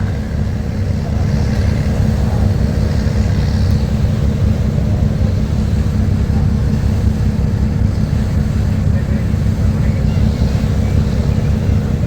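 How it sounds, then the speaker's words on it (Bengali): Steady, loud diesel engine drone of the MV Manami passenger launch on the Dhaka–Barishal river route, a continuous low rumble with wind noise across the whole span and no talk. "মানামের ইঞ্জিনের আওয়াজ শুনতে পাইতেছেন আপনারা"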